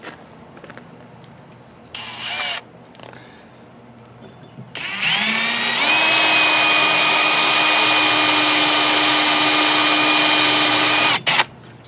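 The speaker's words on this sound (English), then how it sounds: "So I got to drill this out anyway" A power drill boring a hole in a torch holder: short start-up bursts, then a loud, steady high-pitched whine for about six seconds before it cuts off abruptly, close to the listener.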